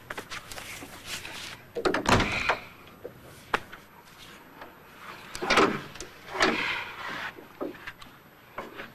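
Several knocks, clicks and rattles of a door being handled and opened indoors, with the loudest bursts near the middle and toward the end of the clip. There is no talking.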